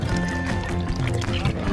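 A cold sugar mixture being poured in to freeze, a continuous close liquid gurgle and trickle with a steady flow throughout.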